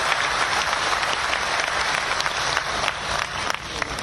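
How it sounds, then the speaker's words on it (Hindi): Applause from a large crowd at a BJP election rally in Bihar, a dense, steady roar of clapping that fills the whole stretch and stays loud and close throughout. "संवाद का जवाब तालियों की गड़गड़ाहट से जो उधर से मिल रहा है"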